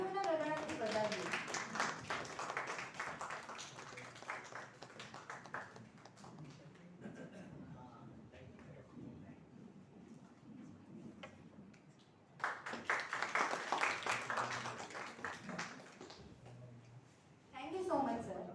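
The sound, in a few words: audience applause at workshop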